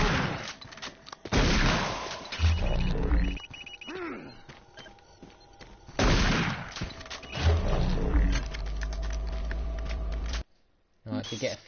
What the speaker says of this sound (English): I think you get 2 machine gunners and a shotgunner.